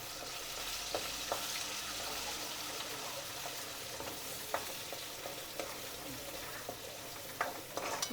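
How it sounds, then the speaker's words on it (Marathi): Spice masala sautéing in hot oil in a home kitchen pan, a steady broadband sizzle with occasional sharp ticks and clinks of stirring, close and continuous throughout. "मसाला मस्त तेलात परतवून घेते."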